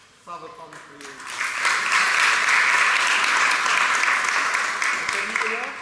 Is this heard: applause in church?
yes